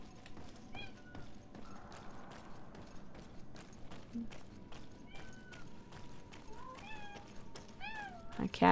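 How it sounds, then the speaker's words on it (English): A cat meows several times in short, rising calls during a GreedFall cave level, close and clear over a low rumbling game ambience with faint clicks. "My cat is very talkative this evening."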